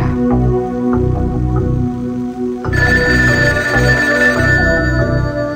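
A telephone rings on a Vietnamese TV game show, sounding repeated bright electronic ring bursts over background studio music. The ringing is loud and near and grows more prominent partway through, with no talk.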